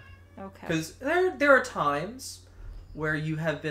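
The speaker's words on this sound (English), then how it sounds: "If you guys hear that chattering, that is my cat talking to birds." A house cat chatters and meows at birds in short, bright bursts between stretches of nearby human conversation.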